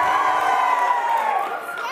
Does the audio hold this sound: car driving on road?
no